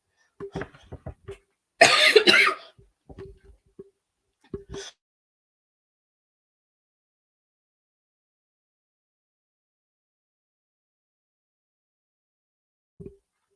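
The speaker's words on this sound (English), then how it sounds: "Got a little cough in my throat" A short burst of close, loud coughing from a podcast host, with a few small throat noises and clicks before and after, then near silence.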